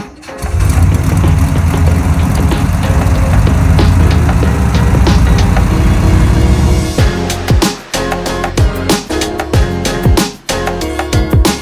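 A Volkswagen Beetle's small air-cooled engine cranks, catches and settles into a loud, throbbing idle, followed by rattly revving with uneven bursts and dips.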